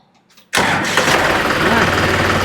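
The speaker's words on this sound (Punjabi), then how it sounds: "ਇਹਨੂੰ ਵੀ ਸਟਾਰਟ ਕਰੇ ਥੋੜਾ ਟਰੈਕਟਰ ਨੂੰ" A 5620 tractor with about 823 hours on it cranks and fires after a half-second of near silence and faint voices, then settles into a loud, steady, thumping diesel idle close by.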